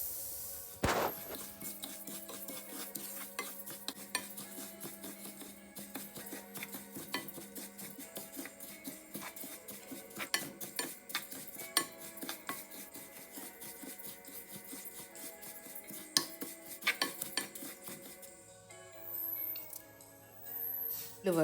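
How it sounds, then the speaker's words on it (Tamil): Two cups of sesame seeds are dry-roasted in a pan for Tamil ellu urundai, stirred with a utensil that scrapes and rubs quietly and repeatedly, with occasional clinks against the pan. "முதல்ல இந்த எள்ளை சாதுவாக வறுத்தெடுக்க வேணும்"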